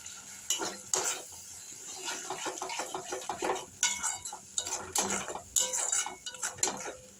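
A metal utensil stirs and scrapes ginger paste with a little water in a cooking pan for an egg tadka, giving repeated close clinks and scraping strokes with a soft sizzle underneath.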